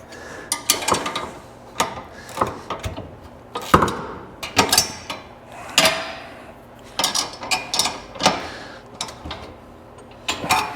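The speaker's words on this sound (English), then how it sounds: "I'm gonna tighten these down just a little bit more." Bolts are tightened on a Venom dirt bike engine stand, giving a string of close, sharp metallic clicks and clanks in an irregular rhythm with no speech.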